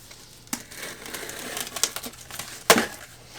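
Blade slicing into the cardboard packaging of a DJI Mavic Mini box, with scattered crinkles, scrapes and sharp tearing bursts, close and fairly quiet, without talk.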